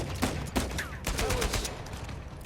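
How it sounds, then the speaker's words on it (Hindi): Rapid gunfire in the action-adventure video game Uncharted 4: A Thief's End, with repeated sharp shots in a fast, uneven fusillade at moderate loudness, some bursts closer together, over a busy game soundscape. "किसी ने तो हमारी इतनी गोलियों की आवाज़ सुनी ही होगी"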